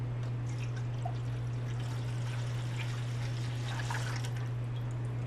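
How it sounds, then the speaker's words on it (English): Tap water poured into a gas collection tube during a school enzyme lab, a soft, quiet trickle and splash running throughout over a steady low electrical hum. "So I'm going to take some water. It's just tap water."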